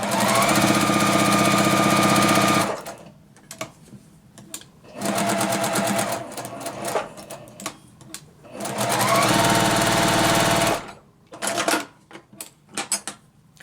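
A sewing machine stitches corner to corner across a quilt square for a beginner flower block, running in three long, steady bursts with quieter pauses between them, close and loud.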